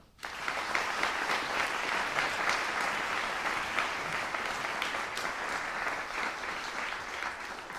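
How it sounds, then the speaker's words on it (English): Sustained applause from a concert audience at an evening young chamber musicians competition, steady dense clapping filling the whole stretch without voices on top. "Let's give another round of applause for the sponsor this evening"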